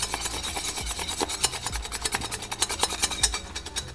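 A whisk scrapes and rattles rapidly in a pot of milk-based croque madame sauce, a close, rhythmic scratching that quickens toward the end.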